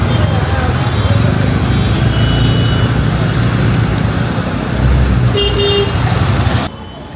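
Busy street traffic in Mumbai, India, makes a constant loud roar of engines, with a short car horn toot near the end before the noise drops suddenly.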